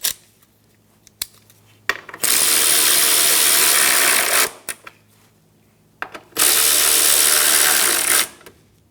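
A ratchet tightens bolts on the radiator support of a 2007-2012 Nissan Altima. A few quick clicks come first, then two loud, sustained bursts of rapid ratcheting, each lasting about two seconds, separated by brief clicks and pauses.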